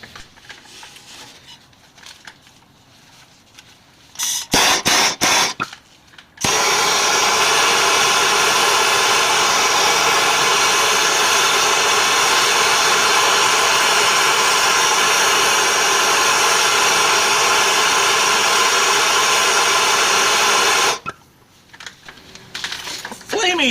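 A torch flame roars in a long, steady, loud hiss while heating a seized brake line fitting on a 1978 Dodge W150 pickup, preceded by short bursts as the torch is lit and followed by quieter clicks once it shuts off.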